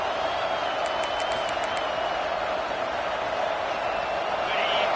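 Stadium crowd noise from a football video game, a dense, continuous roar of many voices holding steady at a loud level, with faint whistles and cheers rising briefly within the wash.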